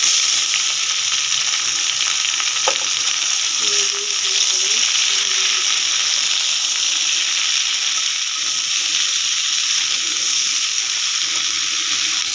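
Water spinach (kolmi shak) tossed into a hot pan of fried onions, a loud steady sizzle and hiss throughout with a few brief clinks and stirring sounds early on.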